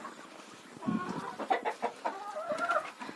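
Several hens cluck and murmur close by in a farmyard coop, a busy run of short clucks and a few longer calls rising toward the end.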